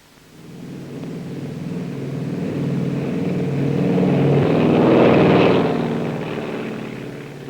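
Northwest Flight 6, a propeller airliner, taking off: a deep engine roar rises steadily, peaks mid-clip as it passes fairly near, then begins to fade, with no talk over it.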